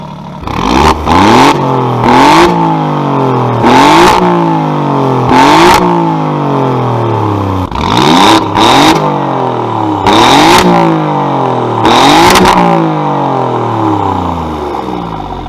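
A loud Alfa Romeo Giulia Quadrifoglio engine revs hard again and again, each burst climbing steeply and dropping back, with sharp gear-change cracks in a steady repeating rhythm.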